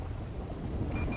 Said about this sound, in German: Es regnet natürlich jetzt richtig schön.